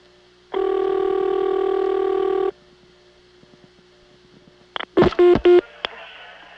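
A touch-tone number dialed on a 1982 Florida Siemens motor-switch telephone line: a long steady tone, then a quick series of short close tones.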